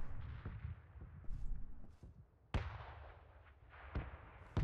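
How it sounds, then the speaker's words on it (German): PUBG red zone bombardment, a series of booming explosions, some distant rumbles and a few sharp nearby blasts, spaced irregularly over a low continuous roar. "Die rote Zone ist gerade ums Eck gestartet"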